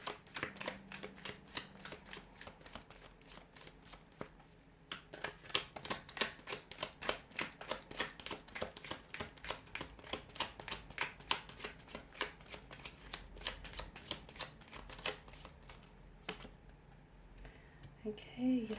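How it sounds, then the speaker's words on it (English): Tarot cards are shuffled repeatedly up close, rapid riffling bursts and flicks in quick rhythmic runs with brief pauses between them. "give the cards a shuffle here"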